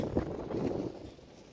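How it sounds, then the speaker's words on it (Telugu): Strong desert wind in Kuwait buffets the microphone in low, rumbling gusts that fade toward the end. "తగ్గేదే లేదన్నట్టు గాలి అయితే తగ్గలేదు ఇంకా"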